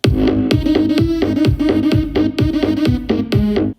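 A loud, punchy Melbourne bounce beat made in GarageBand, with a pounding kick on every beat and a bouncy, swung synth bassline, cutting off abruptly at the end.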